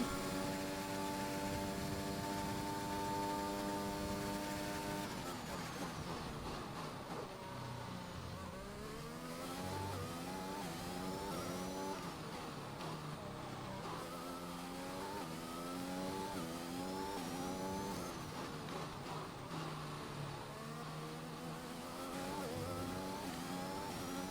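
Formula 1 race cars in the F1 2021 game at the USA round, engines screaming through rising and falling gear changes for the whole stretch, with several cars roaring close together and a brief tire squeal, no talking.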